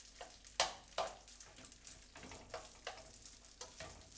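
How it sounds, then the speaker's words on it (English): Rice fries in a hot pan with plenty of coconut oil, a quiet sizzle punctuated by distinct scraping stirs, the first few sharp and the rest evenly spaced, with no talking. "We're gonna put the rice in a hot pan with a lot of coconut oil in."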